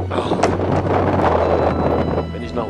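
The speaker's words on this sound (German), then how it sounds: "Es windet mörderisch. Man hört's." Strong wind on Cotopaxi outside a mountain hut, a loud continuous gusting roar buffeting the microphone with broadband rushing noise and brief thumps.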